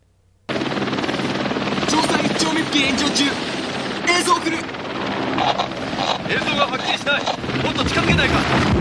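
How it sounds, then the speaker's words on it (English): A helicopter drones loudly and steadily, its rotor and engine noise close and constant, with voices speaking over it. "piloting a helicopter around the fire to get video feed"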